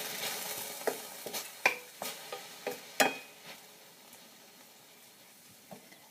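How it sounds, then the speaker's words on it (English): A spoon stirs kale with golden spicy brown mustard in a pan, giving a series of soft, irregular scrapes and clicks over a faint sizzle, near and quiet, with no talking. "we're going to stir all that good stuff up"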